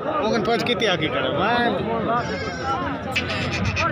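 Goats at the Khairpur livestock market bleat repeatedly amid a busy crowd, their wavering calls mixed with nearby chatter and people talking throughout.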